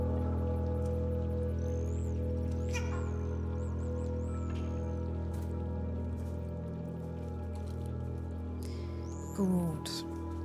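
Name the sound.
cat meowing in video game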